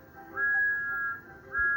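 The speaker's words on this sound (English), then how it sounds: "blew his wonderful whistle loud and long." A cartoon steam engine blows its whistle loud and long, two sustained high tones with a short gap between them, over a soft rumbling background.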